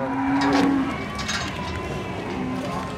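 Jumbo cattle moo at the Muntilan livestock market in Central Java, one low drawn-out moo early on over a busy outdoor crowd murmur and faint voices.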